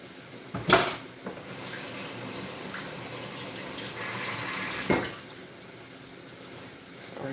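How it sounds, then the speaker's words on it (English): A running kitchen tap splashes steadily while fingers are rinsed clean of raw pork, with a couple of louder splashing bursts over a continuous water hiss. "I had to rinse that meat off my fingers"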